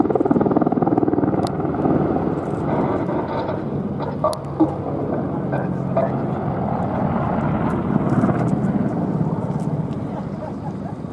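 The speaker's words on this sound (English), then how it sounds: "The Apache was shortly again converting speed into height, pitching to an awesome 90 degrees nose up to perform another pedal turn." An AgustaWestland Apache attack helicopter manoeuvring at the Duxford air show makes a steady, continuous rotor and engine roar at a distance. It stays constant throughout, with faint crowd noise and a commentator's voice underneath.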